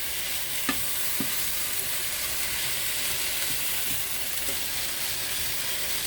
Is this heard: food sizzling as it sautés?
yes